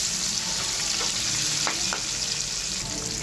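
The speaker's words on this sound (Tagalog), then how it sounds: "Let's start by sauteing onions o sibuyas." Onions sauté in a pan with a constant close sizzle and crackle, and two brief scraping clicks from stirring partway through.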